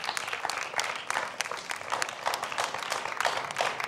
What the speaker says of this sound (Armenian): Մի հատ բուրըն ծափարում ենք Գևորգին